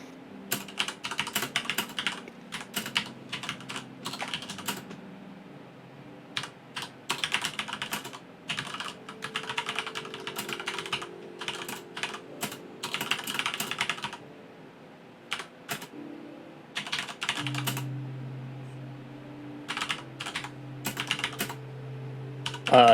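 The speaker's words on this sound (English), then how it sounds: "I like the fact we forced John to start typing" Steady typing on a computer keyboard during a tabletop Dungeons and Dragons session: bursts of rapid key clicks with short pauses, close to the microphone and with no talk over them.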